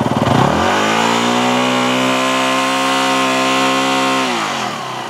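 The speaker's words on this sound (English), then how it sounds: "so I'm going to rev it up a bit." A Yamaha WR250R motorcycle with a suspected failing stator revs up sharply and holds a steady, loud high-rpm drone for several seconds before dropping back, close by with no talk.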